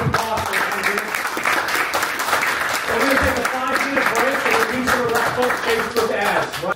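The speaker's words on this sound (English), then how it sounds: "So everybody, give a round of applause." Audience applause after a talk on advertising and social media, steady dense clapping at fairly high level with voices and chatter mixed in throughout.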